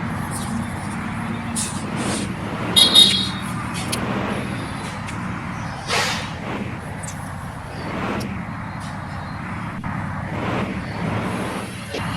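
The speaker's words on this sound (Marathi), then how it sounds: "ट्रॅफिक भरपूर लागलेले आहे आपल्याला" Road traffic rumbles steadily, with vehicles passing nearby and a brief hiss of air brakes partway through.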